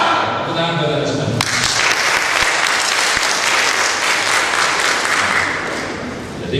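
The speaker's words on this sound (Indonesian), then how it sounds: "Tepuk tangan buat Anda semua." An audience at an Indonesian business seminar breaks into loud, sustained applause that fills the room, with some voices underneath, after talk at the start.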